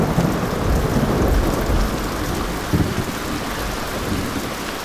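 Steady heavy rain pours down with low rumbles of thunder rolling underneath, a louder thunder roll swelling near the middle.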